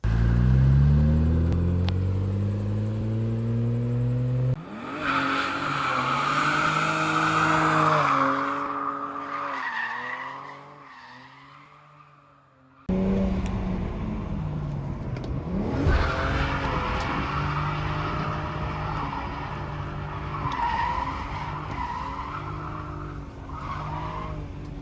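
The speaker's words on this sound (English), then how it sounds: "Here's a little bit of footage of me driving this car up in the mountains." BMW 335i drifting up a mountain road, engine roaring and revving loud and close with long tire squeals and skids, a brief lull midway before the engine surges again.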